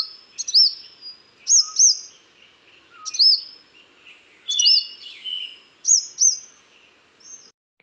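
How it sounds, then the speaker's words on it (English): Purple-rumped sunbird calls recorded from a balcony: a series of sharp, high, thin chirps in pairs and short clusters, repeated about every second or so, fairly close and clear over quiet background. "Here's what the call of the purple-rumped sunbird sounds like."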